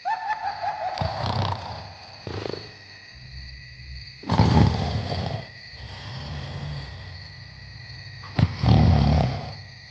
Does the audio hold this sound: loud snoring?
yes